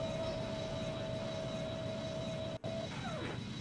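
A simulated airliner takes off in the Extreme Landings game on a domestic flight in Japan from Nagoya to Kansai, with a steady, loud engine roar and a high whine that briefly cuts out near the end.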